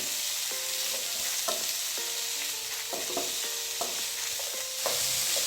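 Raw tomato pieces sizzle and fry in a pan for a green tomato chutney, with steady broadband sizzle and repeated clinks of a spoon stirring against the pan, close and continuous with no talk.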